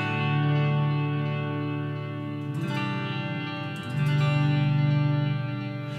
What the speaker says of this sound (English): for the Echo Place, it's for the slower playing, more ambient sounds